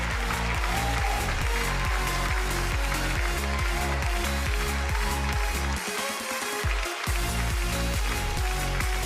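Sustained audience applause fills a hall at the Washington State robotics championship award ceremony, dense and loud throughout, with a backing beat of music underneath and a brief lull partway through.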